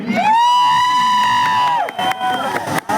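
A crowd cheers at a shopping mall opening in Raichur, with a long rising whoop or whistle riding over loud, steady shouting and clapping that dips briefly near the end.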